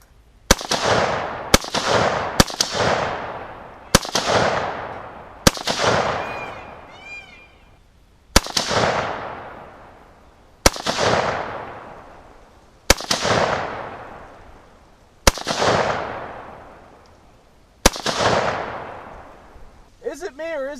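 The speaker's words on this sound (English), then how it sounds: "I'll go ahead and throw another 10 rounds downrange" Rifle firing TulAmmo .223 rounds at an outdoor range: ten loud, sharp shots spaced about two seconds apart, each ringing out with a decaying echo. No one speaks.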